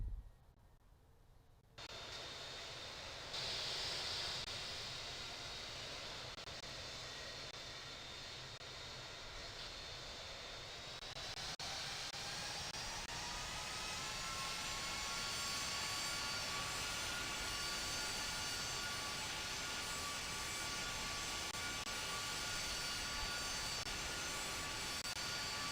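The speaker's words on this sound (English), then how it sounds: "The beautiful takeoff." An airliner jet takes off in Infinite Flight, a United flight out of Denver. A steady engine roar rises to a loud, sustained whine as thrust builds and holds for the whole stretch.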